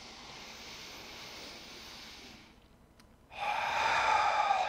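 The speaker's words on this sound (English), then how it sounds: "breathing in again" During a yoga session, a long, airy breath fades out over a steady background hiss. After a short pause a stronger, louder inhale follows, close and alone without talk.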